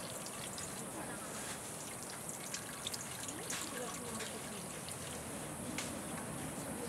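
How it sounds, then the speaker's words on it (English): Water from grated cassava trickles and dribbles steadily as it is squeezed through shade cloth outdoors, a soft continuous wet patter with faint splashes throughout. "squeezing the cassava, getting rid of the excessive water"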